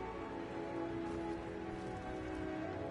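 Heavy rain in Skyrim Special Edition, a faint continuous pattering wash under sustained musical tones throughout.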